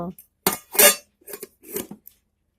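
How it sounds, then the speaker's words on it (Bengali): A lid fitted onto a metal bowl or tiffin box holding a mourala fish preparation: a few sharp metallic clanks and rattles in quick succession, close and loud against silence. "এখন আমি বাটির মুখটা লাগিয়ে নেব"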